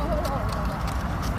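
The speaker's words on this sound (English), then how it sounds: "No, it's a horse." A horse in a city park in Chicago's South Side, with soft clip-clop of hooves and low movement sounds running steadily through the moment, a voice faintly present nearby.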